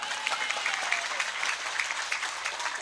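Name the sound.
audience applause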